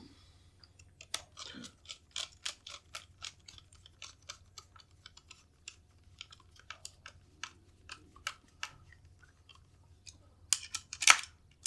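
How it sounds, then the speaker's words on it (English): Screws are tightened on the handguard of a Faxon ARAK-21 rifle, a run of small sharp clicks and ratcheting ticks with quiet gaps between them, close up, with a louder scrape near the end. "Tighten up all of our screws."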